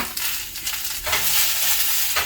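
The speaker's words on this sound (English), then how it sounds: "Listen to that sizzle." Steady, loud sizzling of food frying in a pot, crackling continuously with a brief stir partway through, no voices.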